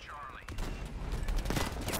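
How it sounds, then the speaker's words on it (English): Distant gunfire crackles in Battlefield V, a faint burst of rapid shots scattered through the clip with a brief whistling sweep at the start. "I see tracers, but I'm not sure who's shooting at who."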